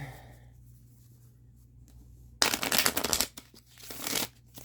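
A deck of playing cards riffled and shuffled by hand during a tarot or oracle reading: a close, crisp burst of riffling followed by a softer second shuffle, heard alone over quiet room hum.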